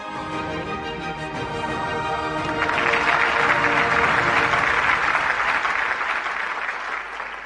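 Loud, sustained applause from a large indoor audience, building after a few seconds into dense, steady clapping that fills the hall.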